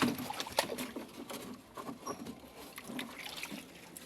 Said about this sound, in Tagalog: tubig ito mga master ah, hugasan natin kasi medyo ma putik sila